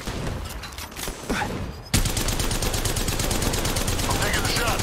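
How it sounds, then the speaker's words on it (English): Rapid automatic gunfire in Apex Legends Mobile, a dense steady burst of shots that starts abruptly partway through and continues loud to the end, with scattered game effects and some voice beforehand. "I'm taking a shot."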